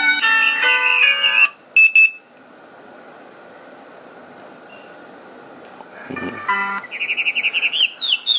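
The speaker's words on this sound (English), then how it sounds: "I can use the plus or minus to cycle through the different alarm sounds I want." An electronic alarm plays chirping bird tones in short bursts, pauses into near silence, then resumes with rapid repeated tweets.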